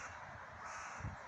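A crow cawing faintly in the background, a couple of short harsh calls in a quiet setting.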